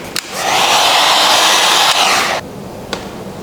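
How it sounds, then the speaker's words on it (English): Heat gun blowing hot air to soften vinyl wrap film on a car side mirror, a steady loud rushing whoosh lasting about two seconds before cutting off, with a brief click at each end. "use a heat gun to soften it and apply it into place"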